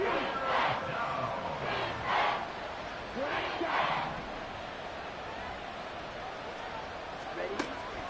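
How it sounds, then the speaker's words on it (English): A stadium crowd roars in a football video game after the Falcons sack the quarterback. The broad, sustained cheering swells in waves and fades slightly toward the end, heard under commentary. "This crowd turning up the decibel level."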